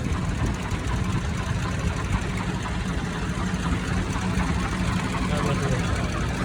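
Idling tractor engine holding a loud, even, slightly knocking rumble up close, with talking in the background.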